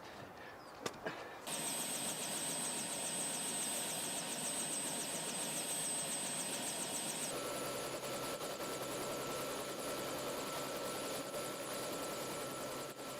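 A helicopter's rotor blades turn with a loud, steady beating drone and a high turbine whine that shifts pitch partway through, close by, after a few brief knocks at the start.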